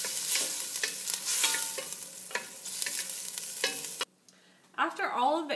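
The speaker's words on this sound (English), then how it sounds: "Give it a stir." Ginger, garlic and lemongrass sizzling in a pan as they are stirred: a loud, crackling fry with scraping strokes that cuts out abruptly, then a brief softer sizzle returns.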